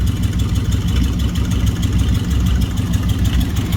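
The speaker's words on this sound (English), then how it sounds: "It's a 55 Dodge. It kind of just sounds about right there." A 1955 Dodge engine with a two-speed transmission runs steadily, a loud, continuous low rumble close by with no talk.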